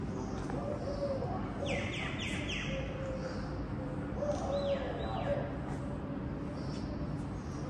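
A small bird, a sparrow, gives a few quick high chirps in short bursts, faint and somewhat distant over a constant low outdoor rumble.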